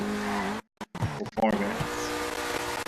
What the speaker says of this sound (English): the car sounds better, and that's typical once you get the exhaust like upgraded